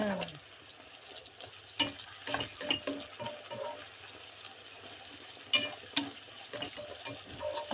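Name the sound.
food cooking in a pan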